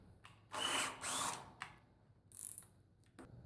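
A power tool whirs in two short bursts while tightening nuts on carriage bolts for a garden gate, followed by a few quieter ratcheting clicks and brief mechanical spins, close by with no talking.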